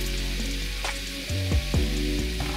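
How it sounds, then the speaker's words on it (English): Butter and black pepper sizzle softly in a pan for chicken wings, a quiet, steady frying hiss with a few brief stirring scrapes and no talking. "Stir that in well, and remember to control your heat so your butter doesn't burn."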